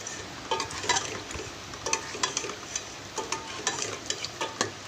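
Bottle gourd and chana dal curry stirred in a pan, with repeated scraping strokes of a spoon against the metal over a steady low sizzle, close and fairly loud, no talking.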